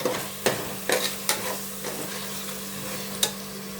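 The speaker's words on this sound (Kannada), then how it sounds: "ಅದನ್ನು ಸ್ವಲ್ಪ ಹೊತ್ತು ಫ್ರೈ ಮಾಡ್ಕೊಳ್ಳೋಣ ಇದನ್ನು ಮಸಾಲೆ ಜೊತೆಲಿ" Field beans (avarekalu) frying with masala in a pan for a pulao: a steady soft sizzle, broken every second or so by sharp spoon scrapes and clinks against the pan, with no talking.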